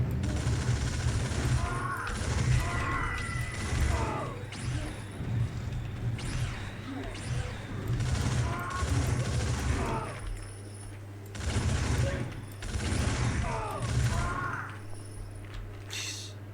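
Repeated bursts of weapon fire with ricocheting, bouncing bullets in the video game Outcast Second Contact, coming in clustered volleys with brief pauses between, loud and close over a steady low game hum.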